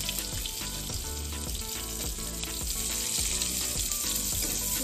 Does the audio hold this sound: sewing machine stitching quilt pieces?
no